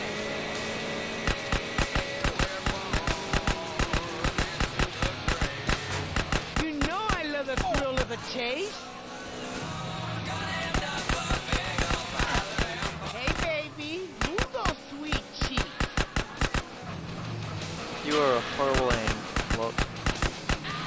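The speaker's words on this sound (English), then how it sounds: "Shoot him before we get there." Gunfire in GTA San Andreas, with rapid cracking shots in dense repeated volleys, loud and sharp, running through the whole stretch over engine noise and intermittent talking.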